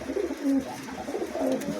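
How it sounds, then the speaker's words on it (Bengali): A newly acquired male pigeon coos softly in low, repeated murmurs against a steady background hum, close by with no talk. "এখানে একটা ফুটারের একটা মেল আছে, এটাও নতুন কবুতর"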